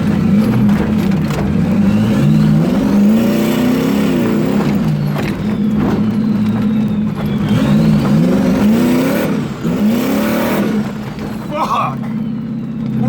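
Turbocharged 454 big block engine under load while driving in third gear, a loud continuous low drone that rises and falls with throttle throughout, with someone talking over it.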